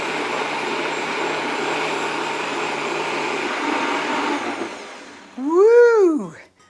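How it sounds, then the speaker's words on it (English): A countertop blender runs steadily on high speed for about five seconds, loud and continuous, then winds down and stops, followed by a brief rising and falling whoop from a voice. "it's gonna have to blend on high"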